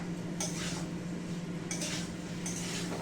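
Chicken stirred in a pan with tomato ketchup, giving three bursts of spoon-on-pan scraping against a steady low kitchen hum, with no talking.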